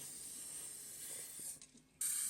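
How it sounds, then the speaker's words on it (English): Continuous silicone aerosol spray hissing close by into a Makita power tool battery, broken by a short pause with a faint click, then spraying again. "we'll just go hard with the silicone spray"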